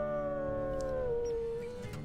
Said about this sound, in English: Oh, there's more dogs over here.